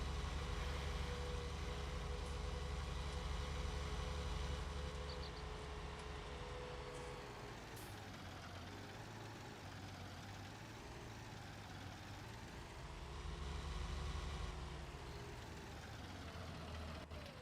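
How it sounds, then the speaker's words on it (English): A tractor engine in Farming Simulator 19 runs smooth and fairly quiet with a steady low rumble, easing slightly in pitch partway through and swelling briefly near the end. "that tractor's much smoother and quieter, isn't it?"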